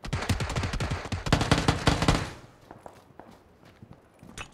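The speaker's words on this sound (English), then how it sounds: "Somebody's behind us to the southeast shooting at us." Rapid SKS rifle fire in a squad-based shooter game, with a dense burst of sharp shots over the first two seconds, then scattered fainter distant pops and footsteps afterward.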